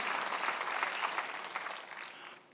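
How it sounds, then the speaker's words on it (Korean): Congregation applauding during a Sunday church service, a brief burst of many hands clapping at moderate distance that fades out within a couple of seconds, with no talk over it. "박수하세요."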